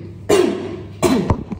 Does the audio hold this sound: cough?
yes